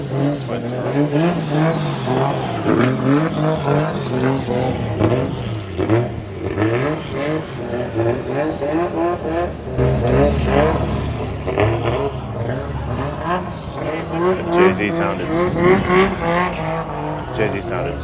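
A twin-turbo Jeep Trackhawk roars and revs hard while drifting at a Clean Culture car event, its engine note rising and falling continuously through the whole stretch, loud and close, with crowd talk mixed underneath.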